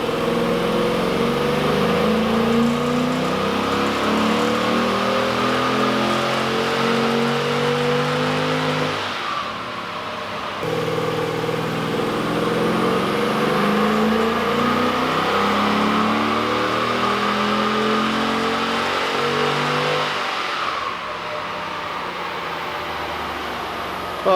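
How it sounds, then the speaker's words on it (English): A 1957 Chevrolet V8 engine revs hard and steadily for most of the clip, with an uneven, breaking-up note from spark and ignition misfire, and it briefly drops off around the middle and again near the end. "we're blowing out a bit of spark, bit of ignition breakup"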